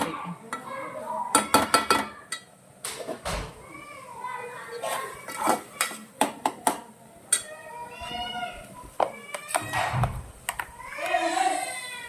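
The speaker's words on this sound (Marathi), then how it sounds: "पाच मिनिटं मी अजून परतवणार आहे तेलामध्ये" Onion-tomato masala being stirred in oil in a pan: a spatula scrapes and clinks against the metal in irregular strokes, with voices and household sounds in the background.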